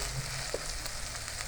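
Chicken frying in a pan for shami kebab, a steady close hiss and sizzle with faint stirring ticks, brief and continuous.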